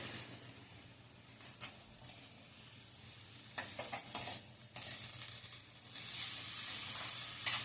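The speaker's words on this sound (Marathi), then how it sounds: "बीन्स, फ्लॉवर आणि बटाटा. हे एकदा चांगलं परतून घ्यायचंय." Beans, carrots, cauliflower and potato are stirred in a pan for masala rice, with soft sizzling and a spoon scraping in scattered strokes. The sizzle swells louder toward the end.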